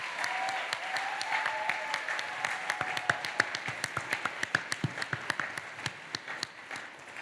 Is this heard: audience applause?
yes